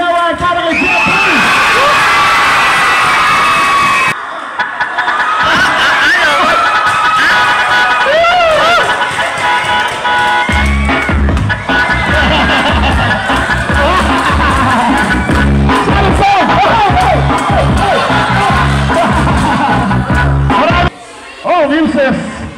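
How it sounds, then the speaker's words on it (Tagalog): Spectators at a basketball game cheer, shout and whoop loudly and continuously, with an announcer's amplified voice talking over the crowd throughout. "Palakpakan, sigawan para kay Ricky!"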